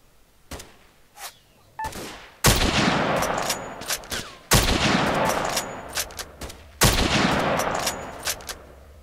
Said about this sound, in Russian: винтовочка, конечно, и стреляет очень неплохими патронами